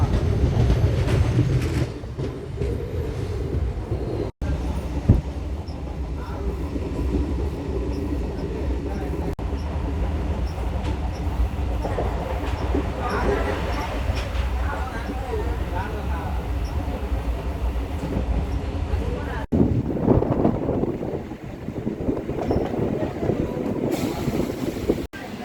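Steady rumbling rail noise fills the interior of a MEMU express train travelling toward Machilipatnam, with rhythmic wheel clatter, occasional squeals and short cuts, and faint voices underneath throughout.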